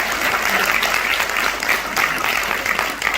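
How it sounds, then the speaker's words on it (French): A theatre audience at a spring stage show claps warmly and continuously, a full, even patter of many hands from start to finish. "On peut l'applaudir."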